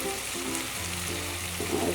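Whole spices including bay leaf, star anise and cardamom frying in white oil for prawn dum biryani, a close, continuous crackling sizzle throughout.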